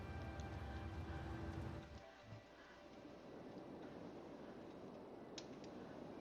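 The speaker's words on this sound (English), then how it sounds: "We have never had rain before." Steady, dense rain in the video game Cities: Skylines hisses continuously, with a low rumble at first that drops away, leaving an even patter.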